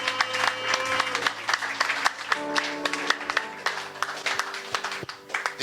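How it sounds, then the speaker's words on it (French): A church congregation claps together in a fairly steady rhythm, the dense applause rolling on throughout with voices and musical tones audible beneath the clapping. "Applaudissons pour le Seigneur"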